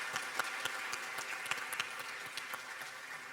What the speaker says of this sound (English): I'm going to ask you to give them another round of applause, Sheikh Rached Ghannouchi, Tarik Yousef, Jon